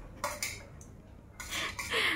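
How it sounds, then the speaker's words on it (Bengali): A knife finely chops onion on a board in a home kitchen: quiet, close, sharp taps come in a few irregular clusters separated by short pauses. "কুটি কুটি করে পেঁয়াজ কাটা"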